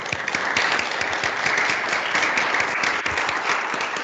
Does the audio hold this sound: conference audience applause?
yes